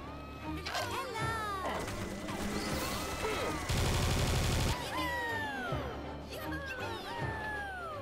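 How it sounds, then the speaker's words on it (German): A minigun fires in the video game Serious Sam 2, with one dense burst lasting about a second in the middle. Whistling and whooshing game effects surround the burst. "Hier, ich habe auch eine Minigun."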